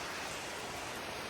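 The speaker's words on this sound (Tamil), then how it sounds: "இப்போ திருப்பி மழை கொட்ட துவங்கிட்டு வேற வந்தா" Heavy rain pours down again in a steady, even hiss that fills the whole moment, fairly soft and unbroken, with no voices.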